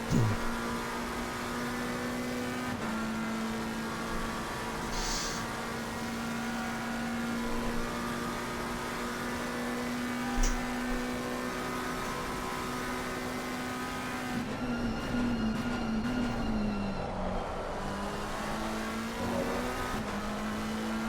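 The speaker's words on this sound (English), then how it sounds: "Really using the engine braking too." Racing engine of a McLaren car lapping Mount Panorama in a racing video game, a steady droning tone that drops in pitch as the driver engine-brakes, with a few brief shifts and blips along the way.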